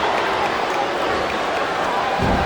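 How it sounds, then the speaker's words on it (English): Arena crowd noise in the WWE SmackDown vs RAW 2007 wrestling video game on PS2, a steady, loud roar of a capacity audience with a low thump near the end and no commentary heard. "This capacity crowd is making their opinions known tonight."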